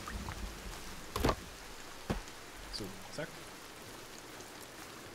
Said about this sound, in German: Oha, der Regen ist ja gar nicht mal so unlaut.